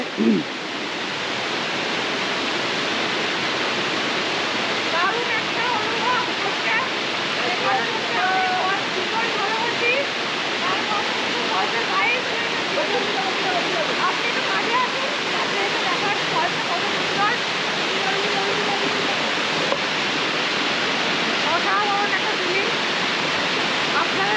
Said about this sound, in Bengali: এখান থেকে দেখুন এর জল পড়ছে